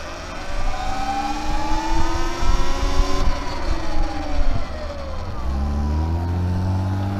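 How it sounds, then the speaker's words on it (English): A car passes by close on the road, its engine and tyre noise swelling and then sliding down in pitch as it goes past, before a lower steady hum settles in. "Let's go ahead and wait for this car to pass"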